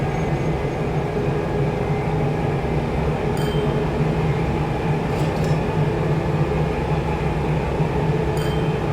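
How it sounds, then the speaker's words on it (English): An electric train runs in the railway-building game Train Fever, a steady rumbling roll with faint high squeals of wheels or rails, continuous and fairly loud, with no talking. "Here we are, this is our first electric train."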